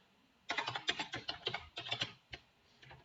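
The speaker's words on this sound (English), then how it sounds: "Let's type in hello world" A computer keyboard tapped in a quick, irregular burst of close, crisp keystrokes spelling out a short phrase, with a brief pause before a few final taps and no speech.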